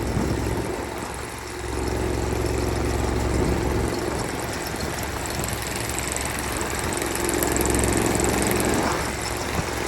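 A Craftsman LT4000 riding lawn mower engine drones steadily at close range, with a brief dip in loudness before it revs back up to a constant roar.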